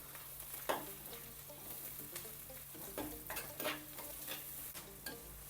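Curry leaves and ginger fry in a pan for fish curry, a soft steady sizzle broken by faint scrapes and taps of a spoon stirring, close and quiet with no talk.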